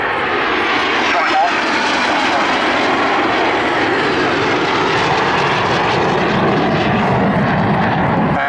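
At an airshow, a Strikemaster jet roars loud and close through a strafing pass with a sustained sweeping engine noise while a commentator talks over it.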